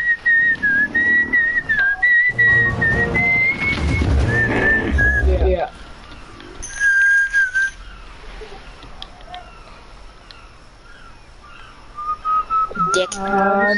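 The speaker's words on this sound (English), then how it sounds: "Stop whistling." A person whistles a wavering, bird-like melody close to the mic, with stretches of talking and background game noise around it, then a pause and a few more whistled notes later on.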